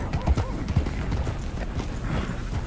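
Horse hooves clip-clopping in Red Dead Redemption 2, a few soft irregular thuds under a busy game soundscape with some voice-like sound mixed in.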